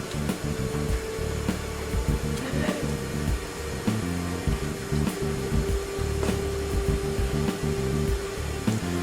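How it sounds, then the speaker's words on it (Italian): Food processor grinding pork fillet pan juices in a cutter, a loud continuous motor whir with a buzzing, pulsing rhythm that holds steady for about nine seconds. "aggiungo un po' di sughetto di cottura di filetti al fondo che adesso vado a macinare nel cutter"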